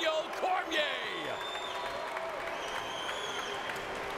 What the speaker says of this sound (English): Cormier's family and friends on their feet, clapping for his performance here tonight